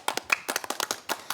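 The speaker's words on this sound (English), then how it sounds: "Let's give them a round of applause, guys" A small group claps during a kids' school quiz show, producing sparse, uneven hand claps in irregular bursts, fairly close and moderately loud, with no talking over them.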